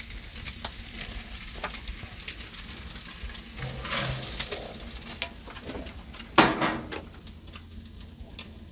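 Bacon frying on a Blackstone griddle outdoors, a steady crackling sizzle throughout with a sharp spatter burst near the end; birds faintly in the background.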